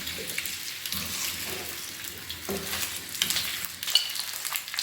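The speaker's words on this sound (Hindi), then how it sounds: "1 मिनट के लिए मैंने इन आलूओं को इस ऑयल में थोड़ा सा फ्राई करना है" Potatoes fry in oil in a karahi with a soft, continuous sizzle, close and moderately quiet. Occasional stirring scrapes run through it, and no one speaks.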